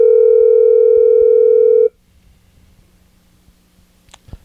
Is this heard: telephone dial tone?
yes